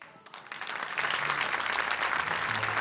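A concert audience breaks into applause welcoming a singer to the stage, the clapping swelling quickly from a few hands into a full, dense ovation, with low musical tones starting underneath.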